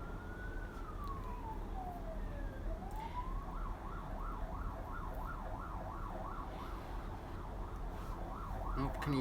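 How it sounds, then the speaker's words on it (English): A faint siren sweeps down, then settles into a steady rapid warble in the distance, over constant low background noise. "can you hear the siren"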